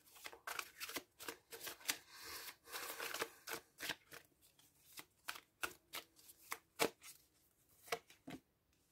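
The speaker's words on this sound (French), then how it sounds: "4 cartes s'il vous plaît pour les Gémeaux pour le mois de juin 2022." Tarot cards shuffled by hand in quick, repeated riffling bursts, faint and close, with a crisp irregular rhythm and no talking.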